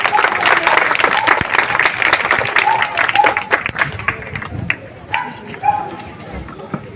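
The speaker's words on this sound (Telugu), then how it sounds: "చప్పట్లు కొట్టాలి" Audience clapping at a cultural program and Bharat Mata puja gathering in Saroor Nagar, a dense burst of applause that fades over a few seconds, with voices and a dog barking nearby.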